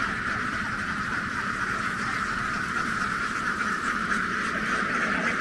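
Dense, continuous chorus of ducks quacking from a large flock at a duck farm, a steady wash of overlapping calls heard from some distance with no pauses.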